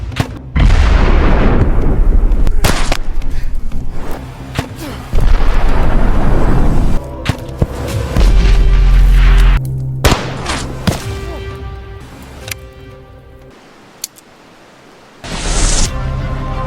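Gunfire and blasts from a film shootout between two men trading shots until both run out of ammunition, loud dense bursts and booms under a dramatic music score.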